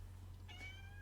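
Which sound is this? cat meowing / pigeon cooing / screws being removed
cat meowing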